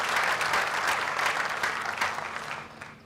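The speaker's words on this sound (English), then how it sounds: "Can we give them a big, big, big round of applause?" Dense, steady applause from a commencement ceremony audience, loud and sustained throughout, fading slightly toward the end with no talk over it.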